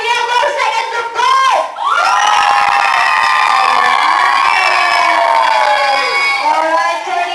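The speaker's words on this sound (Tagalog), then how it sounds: "palakasan ng palakpak na may kasamang hiyaw." At a first birthday party, a group of children and guests shouts and cheers loudly in a sustained, high-pitched chorus that breaks briefly and then surges again, with a few faint claps under the yelling.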